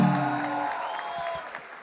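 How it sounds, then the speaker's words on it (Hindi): An audience at a live comedy show claps, a brief patter of applause that rises over a fading tonal music sting and then thins out. "जोरदार तालियां अपने लिए एक बार फिर से।"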